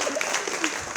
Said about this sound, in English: Round of applause for Denzine.